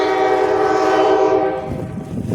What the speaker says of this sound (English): One train going backwards for you.